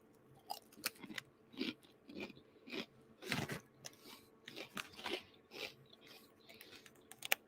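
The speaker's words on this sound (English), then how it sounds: "I'm sorry to crunch in y'all's ear" Close, loud crunching and chewing on a snack, with irregular bursts of bites and munching repeating throughout, no talking.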